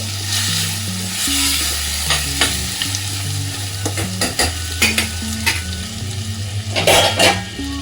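Chicken fry pieces sizzling in a pan as they are stirred into a gravy, with a steady loud frying hiss, repeated spoon scrapes and clanks against the metal pan, and a low tonal hum running underneath.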